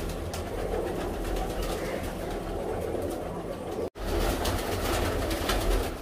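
Female pigeons cooing inside a cage at a large pigeon loft, soft repeated low coos close by over a steady hum, with a brief dropout near the end.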